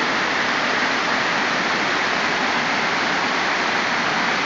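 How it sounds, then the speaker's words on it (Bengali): Waterfall at Suptodhara in Sitakunda, Chittagong, with water pouring down in a steady, loud, broadband rush that fills the whole scene without a break and no talking over it. "ঝর্ণা মনে করো স্লো মোশনে নামবে"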